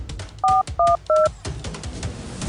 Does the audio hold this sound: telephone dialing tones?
yes